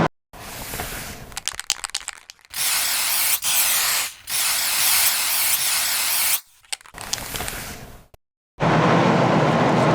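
A spray gun lays a second coat of waterborne base paint onto a car bonnet, loud steady hissing bursts of several seconds each broken by brief pauses and trigger releases.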